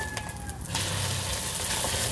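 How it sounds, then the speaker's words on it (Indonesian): Oil sizzling in a frying pan during home Indonesian cooking of eggplant sambal and duck eggs, a steady close hiss that swells louder after a softer start and runs on without talk. "Goreng dua aja ya."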